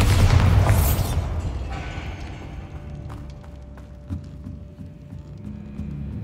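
A Bombarda spell blast from the video game Hogwarts Legacy goes off as a loud, booming burst at the start, then decays into a rumbling tail with scattered clattering debris and a steady low hum beneath.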